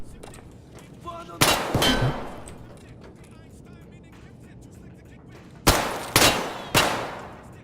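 Scavs in a shooter video game open fire: one sharp burst of loud gunshots with ringing echo, a quiet gap, then three evenly spaced loud shots close together, each tailing off.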